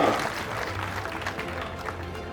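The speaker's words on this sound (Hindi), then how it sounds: "ताली बजा के स्वागत करें" Audience at a Brahmin community honour ceremony in Bhilwara claps to welcome a former legislator, a dense patter of applause, loudest at the start, with a low droning hum beneath.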